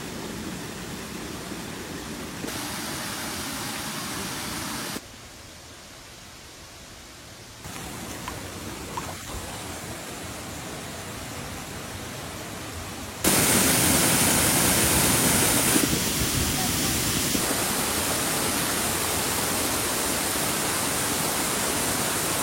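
A waterfall in Bali pours as a continuous, dense roar of rushing water, steady and broadband, with level shifts between segments and growing louder and closer toward the end.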